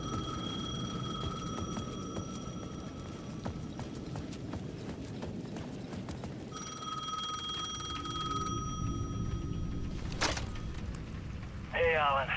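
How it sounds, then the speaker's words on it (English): A payphone rings in the video game Alan Wake 2, a short bell-like burst near the end, heard over steady game ambience and a narrating voice. "The payphone at the edge of the plaza was ringing again."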